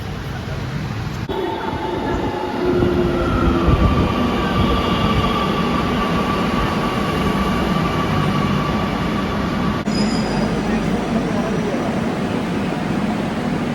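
Steady rumble and whirring hum inside a crowded Kochi metro train running toward Tripunithura, with a few faint high tones drifting over the continuous ride noise.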